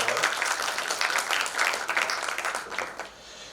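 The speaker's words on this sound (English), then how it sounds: "I think we can give him another round of applause." An audience at a conference gives a warm round of applause, with brisk, dense clapping that holds steady and then tapers off at the end.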